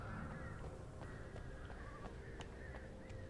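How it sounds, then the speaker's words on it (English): Flock of crows cawing in Alan Wake Remastered, repeated harsh caws spaced across the stretch at a distance, faint over a constant low ambient rumble. "That's a lot of birds here."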